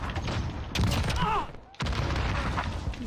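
Loud bursts of video game gunfire with a brief gap between volleys, a voice talking over the shooting.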